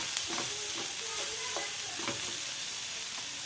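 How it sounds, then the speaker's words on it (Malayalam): Steady sizzling of onions and tomatoes frying in a pan with a spoon stirring and scraping through them, close up, no talking. "ഒന്ന് ഇളക്കി കൊടുക്കാം"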